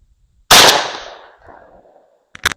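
A 28 gauge shotgun fires a single loud, close shot of number 2 buckshot, its blast decaying over about a second with a trailing rumble, followed by a brief sharp metallic clack.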